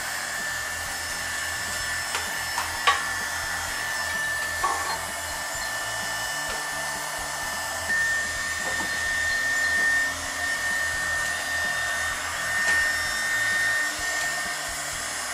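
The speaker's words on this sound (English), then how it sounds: "So this heat gun will warm everything up." A heat gun blows with a steady airy roar while warming plastic pinch weld trim on a Cherokee, constant and close with faint clicks and small shifts in level, no voices.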